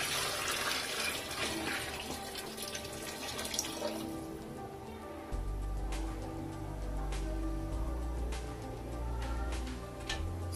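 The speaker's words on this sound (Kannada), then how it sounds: "ಇವಾಗ ಬಿಸಿನೀರು ಹಾಕೋಣ." Heated water is poured from a vessel into a pot of Hyderabadi chicken biryani, seven glasses of rice to thirteen of water, a steady splashing stream that deepens into a heavier gurgle as the pot fills.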